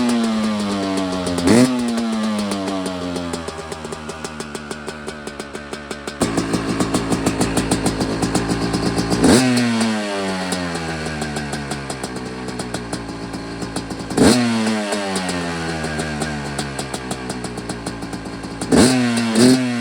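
2024 Yamaha YZ250X dirt bike with a new aftermarket exhaust, running close by with a raspy two-stroke idle and several sharp revs rising and falling at regular intervals, no talking.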